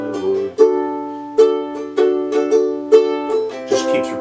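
Ukulele strumming the chorus of a song, a steady repeating chord pattern with sharp, regular strokes, close and fairly loud with no voice over it.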